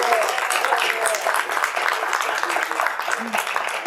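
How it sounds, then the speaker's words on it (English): An audience at a Simple Song of Freedom event at the Brooks Museum of Art applauds its speakers, a steady patter of clapping held for several seconds at moderate level, with some voices mixed in. "Let's give a round of applause to all our speakers."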